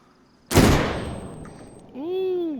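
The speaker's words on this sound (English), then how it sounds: "he is going to deliberately trip the flashbang" A flashbang grenade in DayZ goes off with a sudden loud bang at close range, followed by a decaying ringing hiss, then a rising tonal whine as the stun effect sets in.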